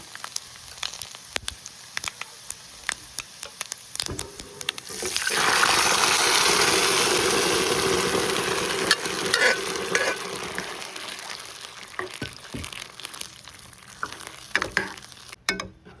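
Chickpea curry poured into a hot pan of sizzling curry-leaf tempering: scattered spoon clicks, then a sudden loud gushing sizzle that gradually dies down while a spoon keeps stirring and scraping nearby.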